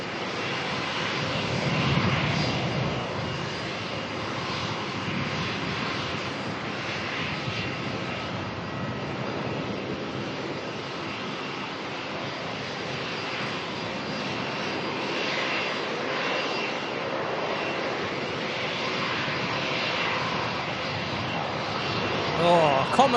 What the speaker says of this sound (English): We've got a Jetstar firing up, a Rex taxiing out.